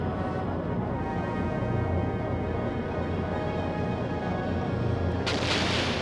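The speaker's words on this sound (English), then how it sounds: "He's also gonna torpedo." Torpedo attack explosions from the video game Skies of Arcadia Legends form a dense, loud, unbroken rumbling barrage that holds steady throughout and turns brighter and harsher just before the end.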